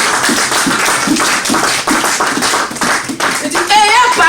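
A church congregation clapping in a rapid, steady rhythm and cheering for Jesus, loud and close, with voices calling out over the hands throughout.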